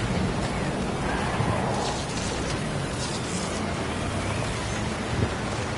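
The storm in the Fortnite video game roars as a dense, steady wash of rain and wind with low thunder-like rumbling, loud and continuous, without any talk.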